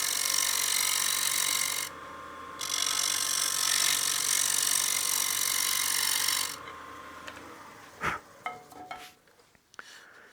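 A wooden bowl spins on a lathe while an Easy Wood Tools scraper works it, giving a steady close hiss of shaving that cuts out briefly, resumes, then stops, followed by a few scattered knocks and taps.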